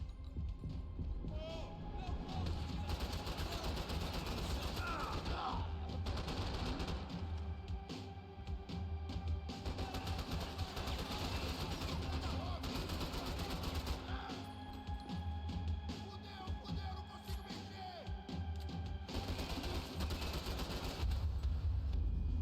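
Repeated gunfire from Max Payne 3, bursts of shots crackling through a busy, continuous game mix over about twenty seconds, with voices talking at times.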